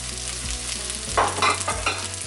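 Ginger and garlic fry in a pan for a green moong and mushroom curry, a close, continuous sizzle with a few brighter bursts of crackle as the pieces are stirred.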